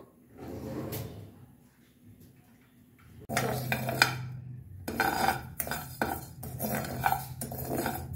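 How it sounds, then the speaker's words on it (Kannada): Rice heating in a pan for poppy seed porridge, with metal utensil scrapes and clatters against the pan in irregular bursts after a quieter stretch of faint kitchen sounds. "ಈಗ ನೋಡಿ ನಾನು ರೈಸನ್ನು ಬಿಸಿ ಮಾಡೋಕೆ ಹಾಕ್ತಾಯಿದ್ದೀನಿ"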